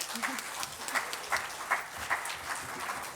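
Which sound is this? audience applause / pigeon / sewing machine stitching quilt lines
audience applause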